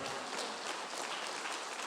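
A church congregation claps together for the Lord in a soft, even patter of many hands, faint and somewhat distant, lasting just under two seconds.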